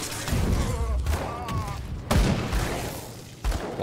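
Heavy gunshot booms in the action role-playing game Grim Dawn, with a few hard, thumping blasts spaced apart among combat noise. Someone talks over much of it.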